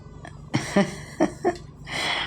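Several short, high-pitched kitten meows come in quick succession, close by, over a quiet background hiss.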